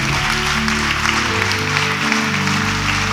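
A church congregation claps during a Valentine's service, a steady wash of applause lasting about three seconds with sustained music tones underneath.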